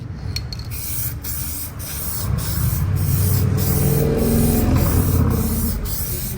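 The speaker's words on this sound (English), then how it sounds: "All right, we just finished up spraying all of the paint." A spray gun applies clear coat to a widebody cab wing on a Nissan D21 truck, giving a steady, close hiss that swells and runs continuously, broken by brief regular pauses.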